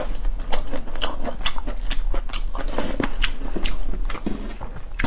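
Someone chews cabbage and tofu up close, with a run of soft, irregular bites and wet, crunchy chewing sounds over a faint low hum and no speech.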